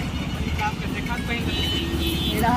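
Steady road traffic rumbles nearby with a continuous low engine drone and occasional passing vehicles, under a person talking.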